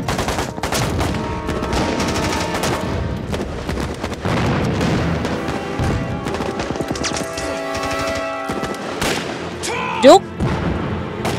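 Gunfire in a battle scene of a Vietnamese action film, heard as sustained loud volleys and shots with crashes and a sharp boom near the end, mixed with dense score and effects; a voice briefly shouts.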